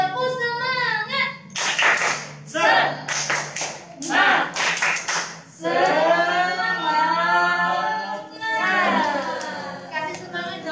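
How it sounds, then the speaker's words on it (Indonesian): Children and adults do a rhythmic group cheer clap (tepuk semangat) at an Indonesian church worship service, several bursts of patterned clapping alternating with spoken and chanted voices. "kita tepuk semangat dulu ya"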